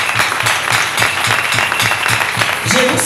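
A church congregation applauding together, a dense steady wash of clapping filling the room, loud and close, with voices mixed in beneath it.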